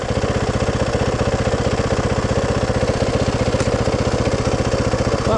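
A Maverick 4x4 engine idles loud and close with a fast, even chugging throb that holds steady throughout, with no talking.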